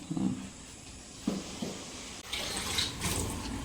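Tap water runs and splashes into a sink with a few soft knocks and clatters as potatoes are rinsed, fairly quiet and close.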